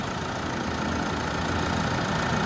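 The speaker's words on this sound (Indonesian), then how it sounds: "mesin 4N15 dikasih Meditran SX, makanya mesinnya jadi kasar" Mitsubishi Pajero Sport with a 4N15 turbo diesel, running on the wrong oil, idling with a rough, steady diesel clatter and broad low hum, continuous and close, no speech.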